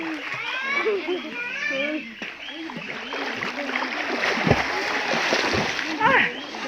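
Water splashes and churns continuously as children dive into clear river water, shouting and talking nearby, with a few louder splashes toward the end; at Sitio Rawang, Tanay, Rizal.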